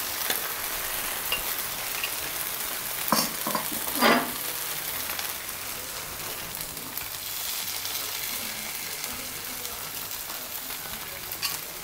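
Rava dosa batter sizzles on a hot pan, a steady close crackle with a couple of brief louder bursts partway through.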